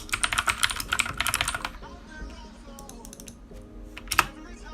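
Rapid clattering keystrokes on a computer keyboard enter text with Photoshop's text tool, a dense burst that thins to a few scattered clicks and a final sharper tap.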